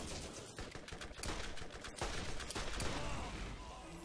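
Rapid gunfire in the video game Borderlands crackles densely throughout, with repeated sharp shots layered over a loud, busy game soundscape.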